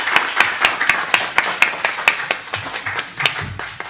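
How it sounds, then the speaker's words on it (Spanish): Sparse, uneven hand claps from a small audience welcoming a speaker at a philosophy colloquium, roughly a dozen distinct slaps in quick irregular rhythm, close and fairly loud, with a faint murmur underneath. "me gustaría que lo recibamos con un aplauso"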